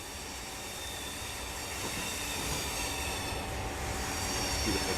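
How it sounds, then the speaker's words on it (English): A passing train in the Train Simulator 2018 game on the Northeast Corridor route, a steady loud rumble with clattering wheels and rail noise that builds slightly as it goes by. "Beautiful train by,"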